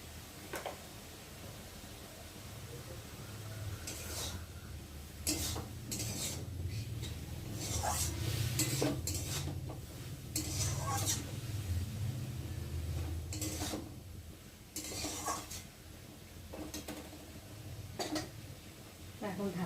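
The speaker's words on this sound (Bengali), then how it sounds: "ভালো করে সবজিটাকে ভেজে নেব" Ridge gourd and potato frying with spices in a pan, with repeated metallic clinks and scrapes of a spatula stirring the vegetables over a low, steady sizzle.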